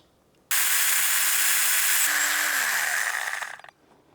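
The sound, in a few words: mini chainsaw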